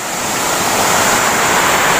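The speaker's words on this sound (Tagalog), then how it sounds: "Napakaingay ng tubig." Loud rushing water pouring over a dam in Bohol, Philippines, a dense, unbroken roar that stays constant and close with no voices.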